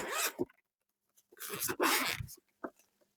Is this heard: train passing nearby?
no